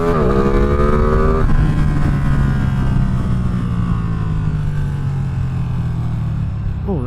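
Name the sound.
Ducati Streetfighter V2 motorcycle engine while riding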